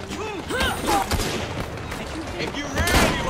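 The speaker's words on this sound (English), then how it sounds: "They're shooting at Jacob" Gunfire rattles in Assassin's Creed Syndicate as rapid, overlapping shots and bursts fill a dense battle mix, loud and continuous, with voices talking over the chaos.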